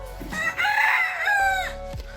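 A rooster gives one loud, close crow among chickens drinking lime water outdoors, with low clucks and farmyard noise around it.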